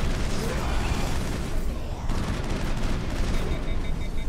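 Sustained gunfire from a Mass Effect squad firefight against husks, a dense continuous barrage with no clear gaps, loud and close throughout, with faint voices mixed in.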